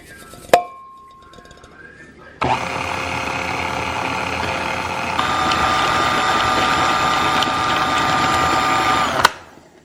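Stand mixer whirring as it mixes wet banana bread batter, a clink and a short tone at first, then the motor starts abruptly, runs steadily near and loud, steps up in speed, and stops with a final clunk.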